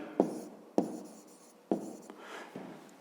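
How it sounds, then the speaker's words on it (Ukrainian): Pen writing out a math solution on paper, with three sharp taps of the pen against the page followed by soft scratchy strokes, close and quiet. "Записуємо тоді. площа"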